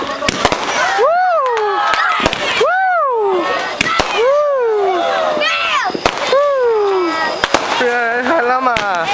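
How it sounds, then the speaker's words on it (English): Fireworks explode outdoors in North Carolina. Sharp, loud bangs and crackling pops repeat irregularly, mixed with rising and falling whistling tones, while people talk nearby throughout. "look at the firework over there"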